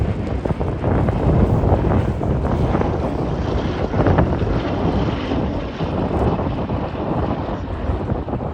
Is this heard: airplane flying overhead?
yes